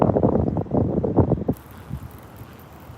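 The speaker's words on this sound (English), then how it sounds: "unfortunately it's so windy right now" Strong wind on a fishing outing buffets the microphone in heavy low rumbling gusts, then eases to a softer steady rush of outdoor air.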